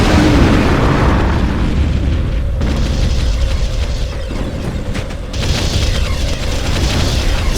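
In the Ground Control strategy game, a loud dense barrage of booming explosions and gunfire rolls on continuously with mechanical clatter mixed in, and no speech.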